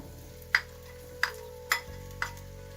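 Spoon stirring chopped tomatoes into onions cooking in a pan for butter chicken, four sharp scraping knocks against the pan spaced under a faint, steady low sizzle.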